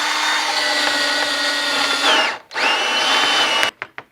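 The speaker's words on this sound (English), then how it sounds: "take your hole saw and just drill a hole through it" A hole saw drills through a piece of scrap wood, a loud steady whine with a brief pause partway through, then a few sharp knocks as it stops.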